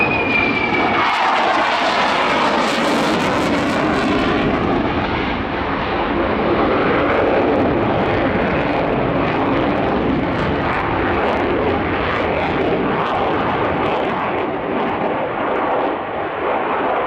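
A Swiss F/A-18 fighter jet roars past at an airshow, a loud, broad jet-engine rumble and hiss that swells and holds steady for the whole stretch, with no talk over it.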